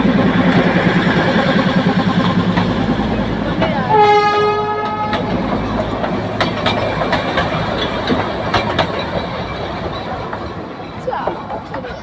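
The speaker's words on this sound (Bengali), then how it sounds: "ট্রেন আসছে, টয় ট্রেন, দার্জিলিংয়ের মেন আকর্ষণ।" The Darjeeling toy train approaches with one clear horn blast midway, then the rumble and clatter of its wheels over a busy crowd murmur with voices in the background.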